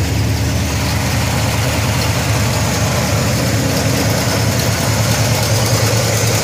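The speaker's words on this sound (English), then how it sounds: "hear a little bit of an exhaust leak down this uh," A 1970 Pontiac Trans Am Ram Air III engine idles with a loud, rumbling, slightly uneven exhaust and a rapid ticking puff from a right-bank exhaust leak, heard close up without talk.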